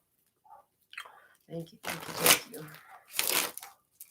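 Tarot cards being shuffled by hand in a few short, crisp riffling bursts separated by brief pauses, close and fairly loud against near silence.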